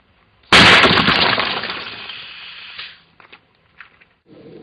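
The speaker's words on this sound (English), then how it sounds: "So we fired our shot." Quarry rock blast fires with a sudden loud broadband burst that rumbles and decays over about two seconds, followed by a few faint scattered knocks.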